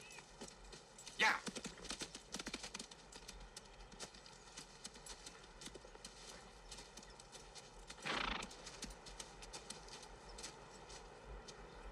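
Horses gallop with steady clip-clopping hooves and a couple of loud whinnies, a sharp one near the start and a longer one later, under a faint outdoor background.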